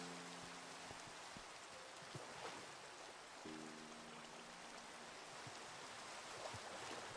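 Steady rain falls in the Minecraft video game, a constant broadband hiss of drops on the ground with no voices, holding at an even moderate level throughout.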